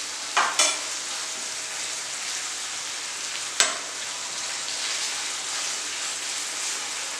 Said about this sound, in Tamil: நல்லா பொன்னிறமாக ஆகிற வர இதை வதக்க சொல்கிறோம்.